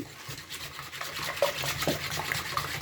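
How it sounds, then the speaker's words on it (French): Eggs being whisked by hand with powdered sugar in a bowl, a soft continuous rubbing, scraping stir with faint liquid slaps, close and steady, no voices. "كنزيد السكر سنيده مع البيض وكنحرك مزيان"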